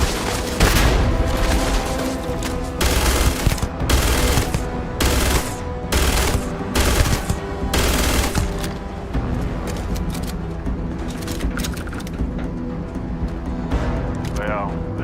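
Guns firing in the video game Starfield, loud repeated bursts of shots with heavy booms for the first eight seconds, then thinning out into quieter scattered fire over a steady in-game background.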